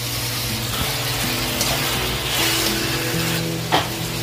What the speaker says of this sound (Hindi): अभी हाई फ्लेम पे आप चिकन को पकाएं थोड़ा सा 2-3 मिनट